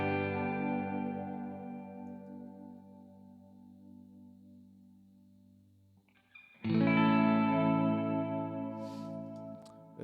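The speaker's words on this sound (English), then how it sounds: "So the second guitar is just doing chords." Electric Stratocaster chords played through a stock Amplitube amp with chorus and effects: a sustained chord rings out and slowly decays, then a second bright, louder chord strikes and rings with slight whammy-bar wobble.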